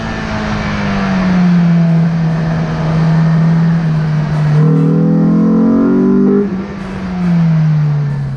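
Cars, including a Firebird and a trailing chase car, drive on a wet, low-grip mountain touge road on Oahu: a loud, close engine drone rises and falls through gear changes and revs, with a second engine note briefly overlapping.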